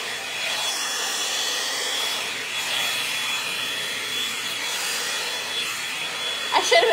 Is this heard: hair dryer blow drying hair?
yes